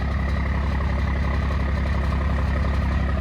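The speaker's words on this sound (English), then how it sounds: "You hear that really slight rattle sound." A first-generation truck idles with its exhaust tailpipe rattling lightly against the tow package, a steady low rumble with fine rhythmic chatter, fairly quiet and even, with no voices.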